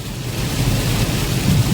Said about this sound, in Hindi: पहली बार मिली है आज इतनी तेज बारिश।